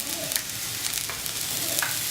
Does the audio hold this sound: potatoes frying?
yes